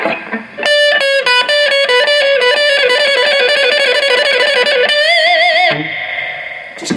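Electric guitar played through a Randall RG80 combo amp with reverb switched on, a fast run of distorted lead notes ringing loud and close, the final held notes swelling with vibrato before a reverb tail trails away alone.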